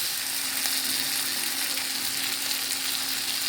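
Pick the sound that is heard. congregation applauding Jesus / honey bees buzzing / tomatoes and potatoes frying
tomatoes and potatoes frying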